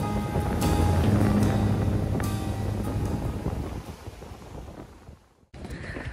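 Strong wind buffets the microphone with a steady low roar and rushing noise, with a brief dropout near the end before the gusting resumes.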